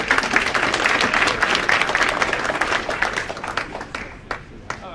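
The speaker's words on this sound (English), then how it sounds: "Let's give him another round of applause." A crowd applauds with dense, steady clapping that gradually thins out into a few scattered claps at the end.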